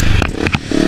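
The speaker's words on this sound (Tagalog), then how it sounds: "ayan ang motor ni Master Jobs" A trail motorcycle revving on a hard trail ride with obstacles, a brief loud burst of engine noise with clattery scraping.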